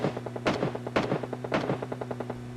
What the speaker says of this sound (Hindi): बढ़िया गन शॉट्स के आवाज आती है यहाँ पे वॉच टावर की तरफ से